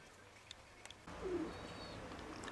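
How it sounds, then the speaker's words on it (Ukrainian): Pigeons coo as they come in to land, with a soft low coo and a brief higher call over faint background noise outdoors. "цей голубок, ну, на посадці, вже на посадці"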